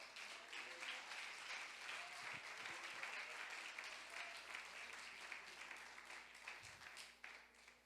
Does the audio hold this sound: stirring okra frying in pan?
no